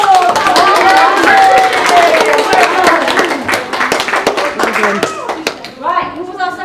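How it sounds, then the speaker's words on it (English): Schoolchildren clap and cheer during a science lecture at a school, a loud burst of applause mixed with excited shouts and chatter that thins out toward the end as voices take over. "Big round of applause!"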